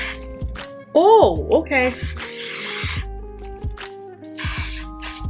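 Melt down lace spray hisses onto a lace wig in several short bursts, close and fairly loud, mixed with someone talking and exclaiming.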